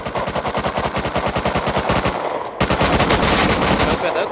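Rapid automatic gunfire in a shooting video game, loud, close bursts of quick regular shots that pause briefly near the middle before resuming even harder to the end.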